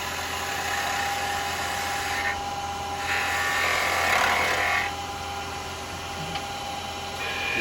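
Woodturning lathe spinning a piece of beech while a new chisel cuts, a steady whirring drone with a harsher scraping swell in the middle as the tool bites, close and continuous.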